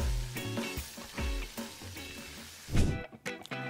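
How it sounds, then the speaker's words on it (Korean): Vegetables and seafood tossed hard in a hot pan for jjamppong, a loud close sizzle with repeated scraping and clanking stir strokes, a brief louder burst near the end, no talk. "각종 채소와 해물을 넣고 터프하게 볶아."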